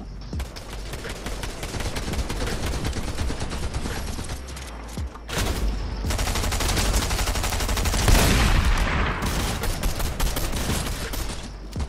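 Rapid bursts of charged SMG gunfire in the Fortnite video game rattle through a chaotic fight, loud and dense, with sustained automatic fire and a brief pause in the middle.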